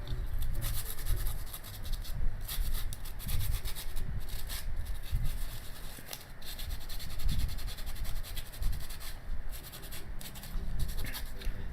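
Wet sanding with Gloss-off, a steady close rasping scrub with brisk back-and-forth strokes and brief pauses between passes.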